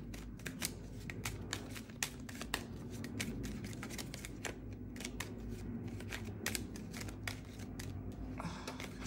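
Tarot cards are shuffled by hand nearby: a rapid, uneven series of crisp riffling snaps and flicks in irregular bursts over a faint room background, quiet and without speech.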